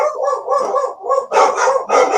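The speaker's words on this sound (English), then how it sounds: "Apparently the dogs are all saying hi to everybody." Several dogs at a busy weekend show bark repeatedly in loud, overlapping bursts, with yips and short howl-like calls mixed in, close by and continuous.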